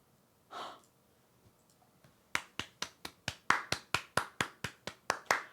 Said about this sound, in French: Non mais je peux qu'applaudir.